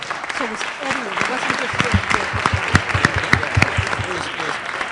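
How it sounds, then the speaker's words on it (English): At a poverty-themed event, an audience applauds a panel of experts, and the steady clapping runs under a voice talking over it for the first few seconds. "give them a huge round of applause"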